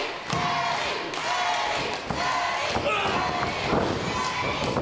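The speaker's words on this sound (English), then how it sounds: "Listen to these fans." An enthusiastic crowd of wrestling fans at a live event cheers and roars continuously, with loud thuds and slams breaking through the steady din.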